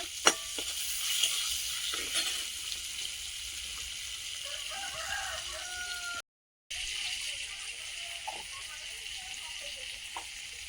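Dry red chilies and bay leaves sizzle in hot oil as spices are fried, a steady soft hiss running throughout with faint clinks of stirring and a brief dropout partway.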